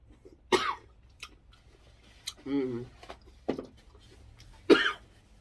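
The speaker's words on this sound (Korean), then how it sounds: "아우 여러분 진짜 기침 많이 나네요" Several separate coughs with quiet gaps between them, one sounding more like a throat clear, close to the microphone, while cooking with chili peppers.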